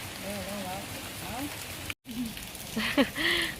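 Steady rain patters on surfaces throughout, a dense even hiss that drops out for a moment and then resumes, with people talking over it.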